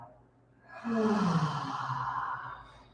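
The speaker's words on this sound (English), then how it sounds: "Let's try an audible exhale." A long, audible exhale during a yoga stretch, a breathy sigh that swells after a quieter inhale and slowly trails off, close and alone with no talk.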